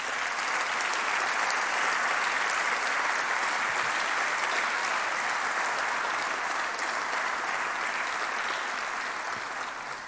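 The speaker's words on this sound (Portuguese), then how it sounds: "Um aplauso para a juventude socialista." Sustained applause from a large audience at the closing session of a Socialist Party congress in the Azores, honouring the socialist youth; loud, dense and steady throughout, fading slightly at the very end.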